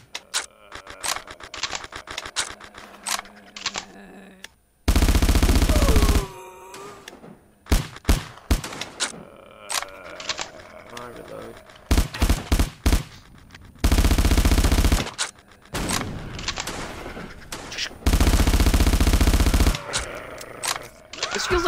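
Rapid bursts of automatic gunfire from a gun in a video game, loud and close, arriving in several long sustained volleys separated by shorter shots and clicks.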